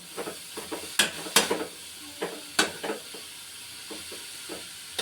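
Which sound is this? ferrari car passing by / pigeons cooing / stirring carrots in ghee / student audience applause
stirring carrots in ghee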